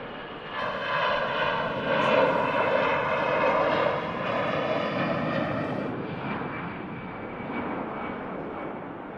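An EasyJet jet airliner taking off from runway 05 left at Manchester Airport, a broad engine roar that swells, holds and slowly fades with distance, heard alone.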